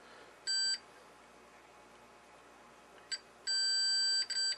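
A short electronic beep from a 1938 Philco 38-7CS radio's tuning aid sounds once, then after a pause a longer beep follows, broken by a brief gap near its end, over a quiet hiss.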